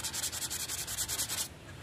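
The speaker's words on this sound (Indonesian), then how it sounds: "karena ini ngerempelas lho jadi suaranya ya" Sandpaper rubs back and forth on wood in quick, even strokes, close and fairly faint, about a dozen rasping passes before it stops.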